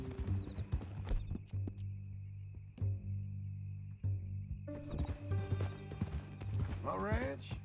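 Horse hooves clip-clop steadily in Red Dead Redemption 2, a mean-looking new horse on the move, with people talking over the rhythmic footfalls and a brief whinny near the end.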